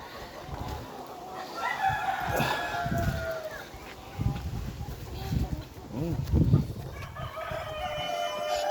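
Sonali chickens on a farm cluck and crow in a steady mix of nearby and farther calls, with a low constant background hum and occasional louder clucks.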